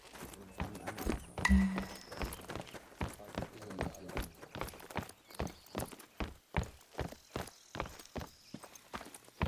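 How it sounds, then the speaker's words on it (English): Footsteps in a story-driven walkthrough game set on a Mississippi farm: a steady run of evenly spaced steps, moderately close and fairly quiet, with faint background sounds. "Do I hear footsteps?"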